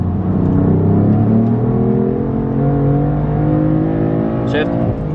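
A BMW F80 running E85 fuel pulls hard during a data log run, its engine tone rising steadily in a loud, close drone heard from inside the car, with a brief voice near the end.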